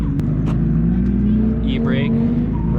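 BMW E46 drift car engine idling with a steady low rumble and a faint rising tone, running continuously beneath people talking inside the car.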